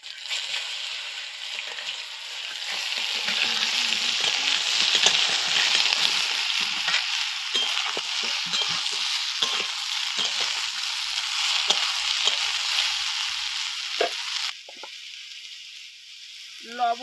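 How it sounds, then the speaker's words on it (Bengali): Ridge gourd and potato pieces fry with salt and turmeric in a pan. The loud, dense sizzle swells after a couple of seconds, with scraping stir strokes breaking through, then drops to a quieter hiss near the end. "লবণ, হলুদ দিয়ে ঝিঙে আর আলুটাকে ভেজে নেব।"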